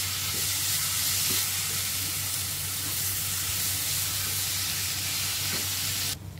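Beetroot sizzles in a hot spice tempering in a pan for beetroot koshimbir, a steady, close frying hiss that runs unbroken and then cuts off abruptly near the end.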